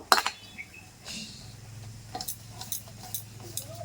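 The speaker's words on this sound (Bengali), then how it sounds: "তেলটা ভালো করে থালার গায়ে লাগিয়ে নেব" Oil is smeared over a metal plate: faint scraping and light metallic clinks and ticks, scattered and close, over a low background hum.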